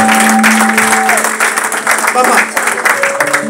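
A church congregation applauds and cheers the Lord during a New Year's Eve prayer night, a loud sustained wash of clapping with sung or sustained voices over it.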